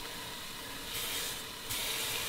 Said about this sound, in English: I'm going to take my bacon, some good fresh bacon, and I'm going to put it in there and let it start frying.